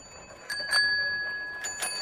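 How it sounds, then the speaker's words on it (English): Several bicycle bells ring out in a children's audiobook story, bright metallic dings scattered across two seconds, some overlapping and one tone sustained, with no talking. "Ring your bells, all of you, so she can hear us."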